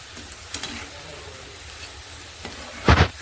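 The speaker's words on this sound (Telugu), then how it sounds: "చూడండి, చక్కగా వేగాయి పకోడీలు." Wheat flour and onion pakodi fry in hot oil with a soft, steady sizzle, broken by a few sharp clinks and scrapes of stirring, the loudest near the end.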